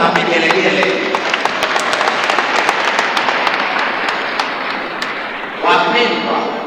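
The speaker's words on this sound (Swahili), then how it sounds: "Wakina baba naomba tuwashangilie wakina mama kwa makofi makubwa na vigelegele." A church congregation at an Easter vigil breaks into steady, dense applause that stays loud and close throughout. A strong swell returns near the end.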